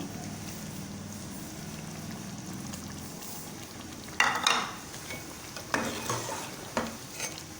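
Boiled chickpeas with green chillies roasting in a pan, a low steady sizzle under several sharp scraping stirs of a spoon against the pan, the stirring bursts coming close together near the end.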